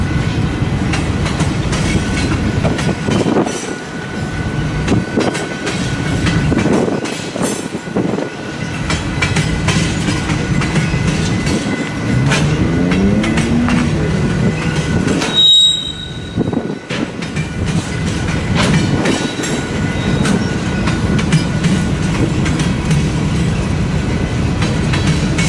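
A westbound manifest freight train rolls past in Fremont, Nebraska, a long, loud rumble of cars with rhythmic wheel clatter, repeated squeals and a brief dip in sound midway, heard up close without voices.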